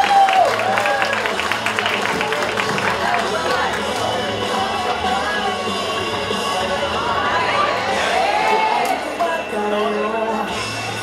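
Continuous crowd applause and cheering at a Sunday cosplay parade at a nerd-pride event, dense and loud throughout with voices and music mixed in.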